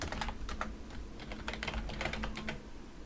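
Rapid typing on a computer keyboard while writing Unreal Engine 5 C++ code, a steady close run of clicky keystrokes lasting the whole moment with no talk over it.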